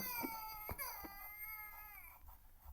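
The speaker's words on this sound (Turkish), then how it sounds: "Oğlum bebek ağlıyor hadi ya." A baby in the video game The Baby in Yellow wails continuously in a thin, wavering cry, with a few soft knocks beneath it.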